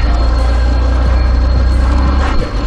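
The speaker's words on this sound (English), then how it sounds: "Gravel, as you can hear." 120cc scooter riding over gravel, a loud, steady engine drone with continuous crunching and rumbling from the tyres, close up and without talk.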